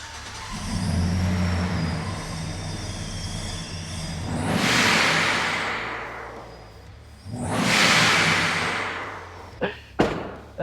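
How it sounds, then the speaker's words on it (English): A Chevrolet Silverado pickup fitted with a TorqStorm supercharger starts and idles with a low rumble, then revs twice in long rising and falling surges, followed by a few sharp knocks. "I'm gonna go ahead and start the car."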